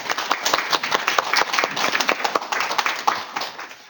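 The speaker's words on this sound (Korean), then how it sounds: "우리 박인석 교수님 박수로 모시겠습니다." Applause welcomes a professor onto the stage at a Korean architecture academy lecture: a dense, steady patter of many hands clapping at close range, sustained evenly throughout.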